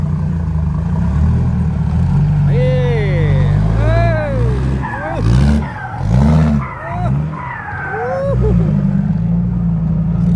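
A Case excavator's six-cylinder diesel drones with a steady, heavy low rumble while dredging a reservoir, its engine note swelling and dipping slightly, with a voice talking loudly over it throughout.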